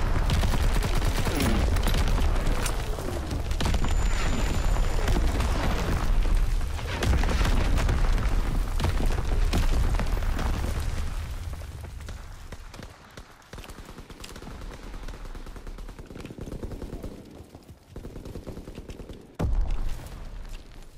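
Call of Duty WW2 battle with dense automatic gunfire and heavy explosions rolling together, loud and continuous at first, then thinning into scattered shots and distant booms, with one sudden close blast near the end.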